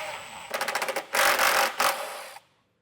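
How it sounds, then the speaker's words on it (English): Socket wrench loosening plastic under-panel bolts on a 2016 Ford Edge, with a rapid run of close ratcheting clicks followed by a longer, steady whirring burst before it stops. "we're just going to use a 10mm deep well socket and remove these"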